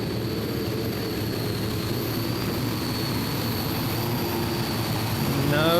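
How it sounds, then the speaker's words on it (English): Tractor pulling run with Isotov turbine engines at the Eurocup in Herning, Denmark, 4.5-ton class: a steady, loud turbine roar with a high whine that holds throughout and swells slightly near the end. "letting the Isotov turbines do the business"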